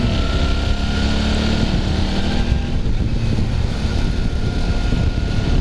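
Suzuki V-Strom DL 650 motorcycle engine pulling hard uphill on a curvy road, a steady loud drone with wind rush that holds throughout, recorded close on the bike.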